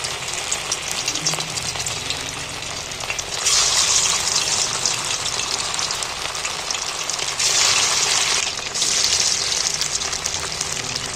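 Marinated chicken pieces for a coriander chicken dish go one at a time into hot oil, each drop setting off a loud gushing surge of sizzle over a constant close frying hiss.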